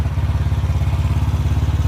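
A Yamaha Mio Soul scooter engine idles steadily up close, a rapid even putter with light mechanical clatter throughout.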